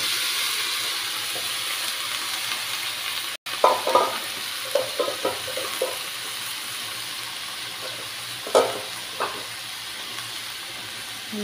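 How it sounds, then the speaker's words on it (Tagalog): Cabbage and ground meat fry in a pan under a steady sizzle and hiss, with a few scraping stirs of a utensil in the middle, close by and with no talk. "At ilagay na natin ang ating repolyo."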